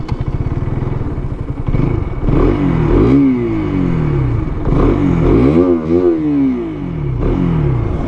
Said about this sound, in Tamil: எக்ஸாஸ்ட் நோட் கேட்டு அப்படியே கிளம்பிடும்.